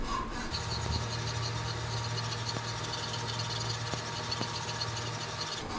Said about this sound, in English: I'm going slow and constantly stirring